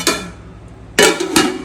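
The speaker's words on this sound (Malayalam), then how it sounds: "എന്തായാലും ഇത് തിളച്ചിട്ട് വെക്കാൻ നമുക്ക് മൂടി വെക്കാം." A lid goes onto a pot of butter chicken sauce with a few sharp metallic clanks close by: one knock at the start, then a louder pair of clatters about a second later. No one speaks.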